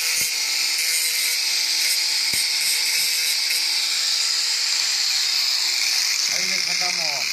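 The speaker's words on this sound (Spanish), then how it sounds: "Vamos a sacarle un poquito la pintura para que nos agarre la soldadura." A power tool grinds paint off a metal pipe before welding, producing a steady high-pitched whine that holds constant throughout and shifts in pitch near the end.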